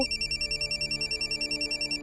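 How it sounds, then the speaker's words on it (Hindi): A mobile phone ringtone plays a rapid, evenly pulsing electronic trill that repeats steadily and sounds clear and close, heard alone without speech. "फोन बज रहा है तुम्हारा?"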